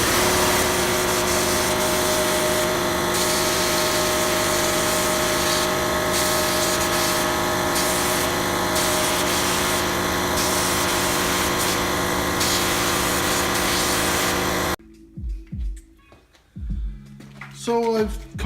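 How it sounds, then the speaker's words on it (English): Air compressor running loud and steady in a workshop during brake lever sandblasting, a continuous motor drone with a harsh hiss that cuts off abruptly, leaving faint clatter and scattered quieter noises. "the compressor's probably going to kick in very shortly too"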